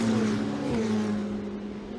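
Ferrari Challenge race cars at the Imola circuit drone past with a sustained engine whine whose pitch dips and shifts, heard at a moderate distance without talk.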